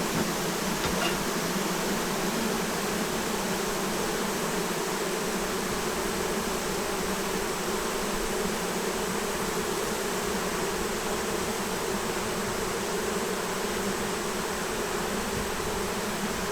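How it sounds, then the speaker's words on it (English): Honey bees swarm across the frames of an opened hive, making a dense, steady, unbroken drone that is close and fills the whole stretch with no talk. "Look at all these bees run."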